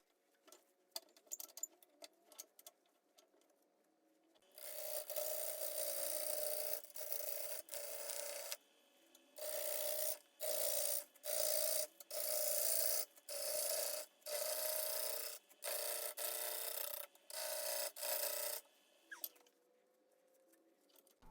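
A large green wood bowl blank is rasped by hand, with bursts of rough back-and-forth scraping strokes in rhythmic runs separated by short pauses, close and fairly loud.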